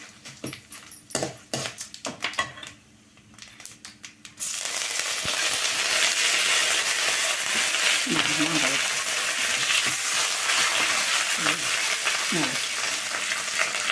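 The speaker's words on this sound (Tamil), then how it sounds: "இதுக்கப்புறம் கருவேப்பிலை போட்டுக்கலாம்." Curry leaves hitting hot oil while mango rice is cooked: a few light clinks and stirring taps give way to a sudden, loud, close sizzle that stays steady to the end, with faint squeaky scraping over it.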